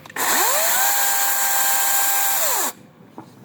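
A Worcraft CGC S40LiBA cordless chainsaw runs during an oil pump check. It is a loud, close electric whine that spins up quickly, holds steady for a little over two seconds, then winds down and stops.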